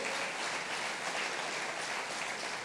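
Church congregation applauding at a Sunday service, a steady dense wash of clapping that holds evenly throughout without pause.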